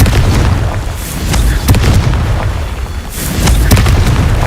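Explosive Confringo spell blasts in a Harry Potter video game, heavy booming detonations with rumbling low end and crackling bursts, loud and close, rolling one into another.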